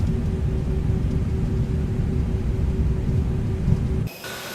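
Lufthansa A320neo jet engine idling in the X-Plane 12 flight simulator, a steady loud low rumble with a faint tonal whine that holds for about four seconds, then drops away abruptly to a quieter hiss.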